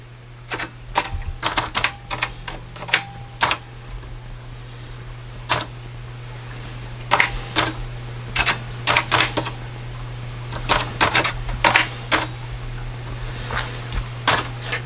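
Keys are pressed one at a time on an Apple-1 computer keyboard, sharp clacky strikes in slow irregular bursts with pauses, close and distinct over a steady low electrical hum.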